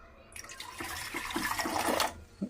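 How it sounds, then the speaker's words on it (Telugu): Water is poured into a pot to make tea, a steady splashing gush lasting about two seconds before stopping, close and fairly loud. "వేసుకొని కొంచెం వాటర్ వేసుకుందాము"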